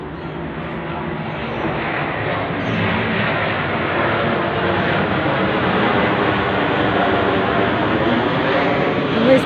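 Airplanes fly low over the city, a continuous broad engine roar that slowly swells in loudness, steady and close overhead with no talk.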